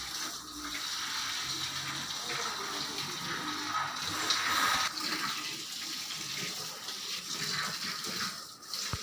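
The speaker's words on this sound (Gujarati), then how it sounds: "તો ફાઇનલી મિત્રો પાણી છંટાઈ ગયું છે" Water is sprayed and sprinkled onto loose construction material for a kachi gaadi base, a continuous broad rushing hiss with splashing, fairly close and steady, with no talk.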